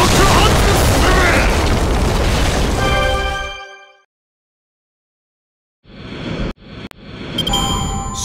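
A loud explosive attack in the mobile game Fate/Grand Order booms and roars for about three seconds before cutting to silence, then sharp bursts and crashes of battle effects follow.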